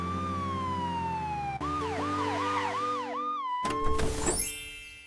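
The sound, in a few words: ambulance siren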